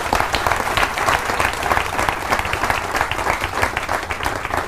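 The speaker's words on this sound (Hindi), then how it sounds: "मैं चाहूँगा उनके लिए एक बार जोरदार तालियां" An audience bursts into loud, sustained applause, dense clapping from many hands filling the room evenly from start to finish.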